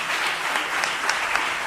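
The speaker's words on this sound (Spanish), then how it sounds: "para ella es para quien pido el aplauso" Applause from an audience at a flamenco festival event in La Puebla, a short, steady patter of clapping with no speech over it.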